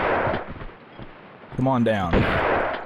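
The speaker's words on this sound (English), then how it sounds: "I got 14 shots in my shotgun to do so" Shotgun blasts aimed at enemies in the video game Tomb Raider 2, a few sharp reports with a game voice calling out partway through.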